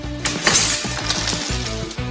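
Glass shatters as ceramic pieces from a spark plug are thrown against it, a loud bright crash at the start followed by tinkling fragments over a steady low hum.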